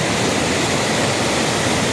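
A rushing river beside a riverside campsite in Ciherang, Rancabali, a dense, steady roar of water close by with no other sounds.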